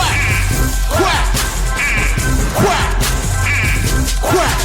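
A person imitates a duck, giving a series of repeated nasal quacks at a steady rhythm, loud and close, over a continuous low background hum.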